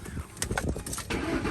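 A 2008 Ford Mustang GT Premium convertible with an automatic gearbox and a loudmouth aftermarket exhaust cranks and catches, the engine firing into a rough idle that stays close and fairly loud throughout.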